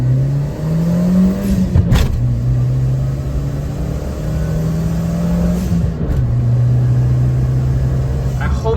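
A Honda Acty small truck engine revving up through gears, its pitch rising and dropping with each shift, loud and close, with a steady drone underneath.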